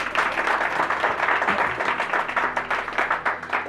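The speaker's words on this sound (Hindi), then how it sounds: "मैं चाह रहा हूं कि आज भी उनके प्रतिभा के लिए जोरदार तालियां हो जाए" An audience breaks into steady, vigorous applause for a successful student now in the UP Police, dense rapid clapping that carries on evenly throughout.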